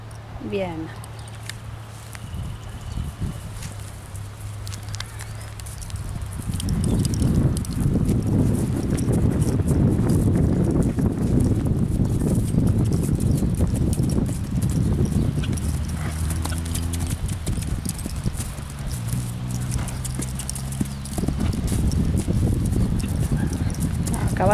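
A bay horse's hooves clip-clop in a steady walking rhythm on firm ground, close and fairly loud, with wind and someone talking over it for much of the time.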